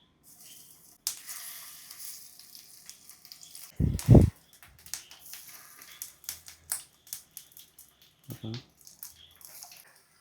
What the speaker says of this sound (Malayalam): നമുക്ക് ചൂടായ പാനിലേക്ക് നമുക്ക് ഈ പഴം കട്ട് ചെയ്തത് ഇട്ട് കൊടുക്കാം